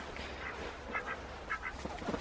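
Ducks quack in a greenhouse shelter beside chickens, several short nasal calls in quick pairs and clusters over a low background hum, fairly close.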